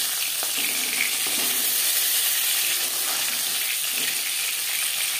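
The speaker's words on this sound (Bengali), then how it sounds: "একটা সাইড ভাজা হয়ে গেলে অপর সাইডটা উল্টে দেবো।" Bata fish frying in a kadai on a home stove, a constant dense sizzle of hot oil with occasional faint scrapes, fairly close and without speech.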